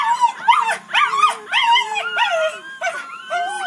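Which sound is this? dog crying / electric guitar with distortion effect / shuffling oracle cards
dog crying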